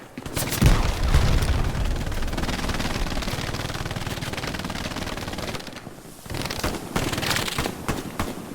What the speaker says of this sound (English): Grenade, run!